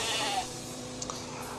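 A sheep bleats briefly at the start, followed by a softer, fainter bleat-like cry amid low background noise.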